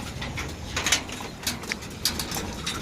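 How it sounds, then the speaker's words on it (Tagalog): Racing pigeons coming back into the loft after being fed, with soft scattered cooing, faint wing flutters and light rustling at close range. A few brief brighter bursts stand above a steady low background, and no one speaks. "Pumasok na yung mga nakarating na mga ibon natin"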